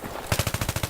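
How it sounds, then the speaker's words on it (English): An assault rifle with a heavy barrel fires from the hip in Battlefield 3, a loud close burst of about nine rapid, evenly spaced shots after a brief lull. "Even with a heavy barrel, hip firing still pretty good."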